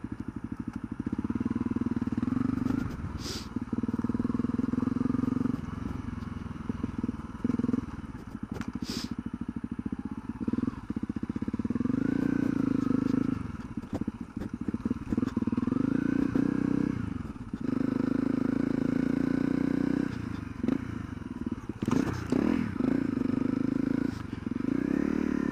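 A Honda CRF250L motorcycle ridden off-road on dirt, its engine droning loud and steady with short dips as the throttle eases, over scattered clatter and scraping.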